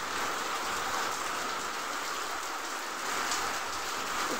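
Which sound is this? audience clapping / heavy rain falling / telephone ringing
heavy rain falling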